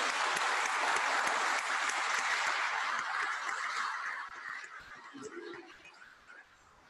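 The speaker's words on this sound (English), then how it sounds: "Let's give Jack a big round of applause." Church congregation applauding at a Holy Communion service, a dense steady wash of clapping that gradually thins and fades toward the end, with a few voices faintly mixed in.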